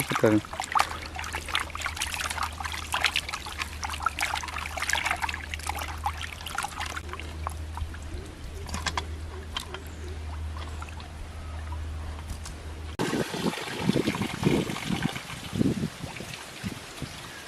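Water trickles and pours steadily while cleaned, salted fish are washed outdoors. The flow is faint and continuous, a low hum runs underneath, and there are sharper splashes and handling noises toward the end.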